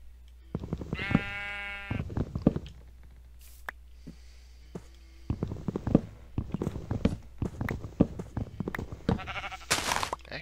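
Sheep in Minecraft bleat several times in short, wavering calls, close and clear, with soft footstep and game sounds between them and brief talk at one point.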